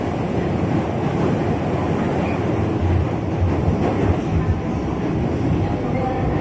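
A commuter line train rumbles continuously along an elevated track past dense housing, a loud, steady roar of wheels and wind that fills the whole stretch.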